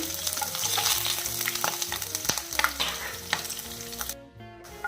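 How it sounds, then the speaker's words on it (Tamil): Garlic and green chillies sizzle in a hot pan with a bright, constant crackle, punctuated by sharp clicks and scrapes of a spoon stirring, all under background music. "கட் பண்ணி வச்சுருக்கக்கூடிய பூண்டும் இந்த பச்சை மிளகாவும் சேர்க்கலாம் ஒரு நிமிஷம் இதை வதக்கிடலாம்"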